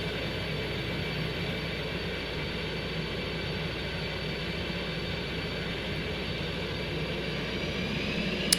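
An F-18 jet flies a night traffic pattern in the X-Plane 11 flight simulator, producing a steady, unbroken engine roar and whine at constant loudness throughout, with no speech.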